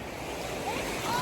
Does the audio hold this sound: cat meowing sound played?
no